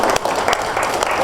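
A short burst of audience applause at a youth business networking session in Vellore, fairly loud and close, with claps blurring into a continuous patter.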